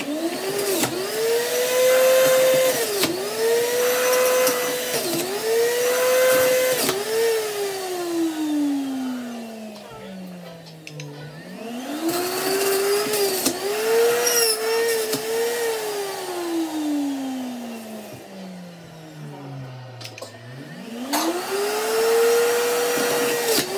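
A juicer runs loud and close while juicing pineapple, its motor whine repeatedly dropping in pitch under load as chunks are pushed through, then recovering, with no talking.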